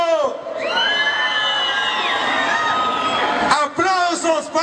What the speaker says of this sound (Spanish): ¡Aplausos para Irapuato!